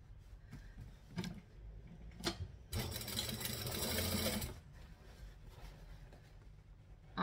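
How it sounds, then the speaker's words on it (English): A sewing machine stitching a bag lining: a steady whirring run of stitches lasting a couple of seconds, framed by soft clicks and handling of fabric in a quiet room. "So now we can go and stitch the other half of our lining."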